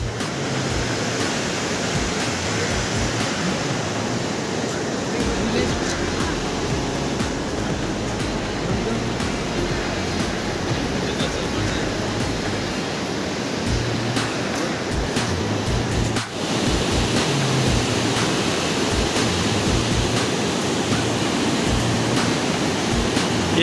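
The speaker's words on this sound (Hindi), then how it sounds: "नीचे पार्वती नदी देखो कितनी स्पीड से बह रही है, बहुत तेज फ्लो है" Parvati river at Manikaran rushing fast below the gurudwara and its natural hot springs: a loud, steady, unbroken roar of churning water across the whole stretch, with no clear voices.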